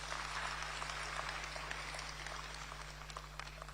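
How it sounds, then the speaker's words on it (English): Faint, distant applause from an audience at a political gathering in Ghana, cheering its MPs, comes as a steady patter of many hands over a low electrical hum. "A round of applause for our MPs."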